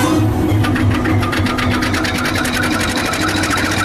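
A locomotive engine runs with a loud, close, steady rhythmic chugging pulse, continuous throughout with a mechanical rattling texture.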